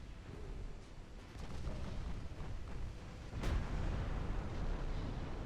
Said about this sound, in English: Nope, that's that's 2 torpedoes.